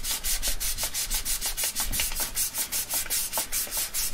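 A left-handed Telecaster-style guitar body from a kit is sanded by hand with rapid, rhythmic back-and-forth scratchy strokes, loud and close, with no voices.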